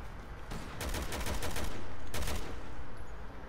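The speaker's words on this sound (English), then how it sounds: "At least there I can actually use my assault rifle." Assault rifle fire in Resident Evil 6 rattles out in rapid bursts, a couple of sustained volleys with short gaps, fairly close against a steady game-ambience rumble.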